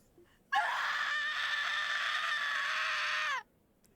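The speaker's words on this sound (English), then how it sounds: "That's a good scream." A woman in the video game Trails to Azure lets out a single sustained, high-pitched scream lasting about three seconds, loud and clear over near silence.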